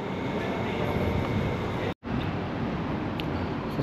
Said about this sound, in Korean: 지하철을 탔어요.